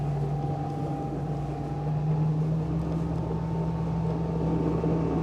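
A Candela electric hydrofoil boat hums steadily with a strong low drone and rushing water and wind, the pitch and level rising slightly as it gains speed, with some cavitation noise from the foil.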